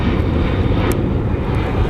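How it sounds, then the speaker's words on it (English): A Delta regional jet roars past nearby, a dense, steady broadband engine rush that stays loud and constant throughout with no voices over it. "That's what we do at Delta. It's a regional jet, Nick."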